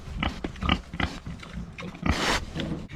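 Pigs on a small farm grunting repeatedly in short, rough bursts, several animals close by with uneven rhythm and one louder squealing snort near the end.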